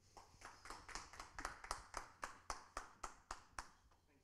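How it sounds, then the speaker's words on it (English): An audience applauds for a speaker, heard as a sparse run of about a dozen distinct, evenly spaced claps, fairly faint and distant, with no talk over them. "Round of applause for James, everybody."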